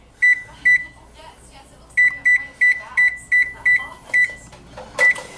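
An oven's control panel beeps as it is set to preheat to 425 degrees, giving about eleven loud, short electronic tones in an uneven series, close by.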